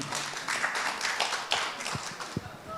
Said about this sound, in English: Applause to Oliviane.